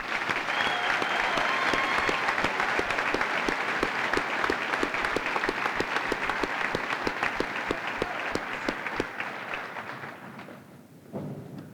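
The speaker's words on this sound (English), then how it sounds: "Can we give them a round of applause, please?" An audience applauds at a high school graduation ceremony, with steady clapping and sharp individual claps sustained for about ten seconds before fading into quiet hall ambience.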